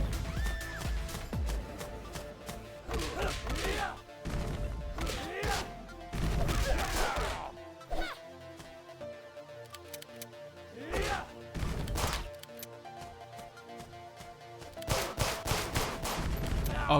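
A boss fires a machine gun in the video game The Takeover, with bursts of rapid gunfire over game music and effects, loud and repeated across the stretch.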